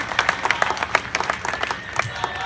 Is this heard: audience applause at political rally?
yes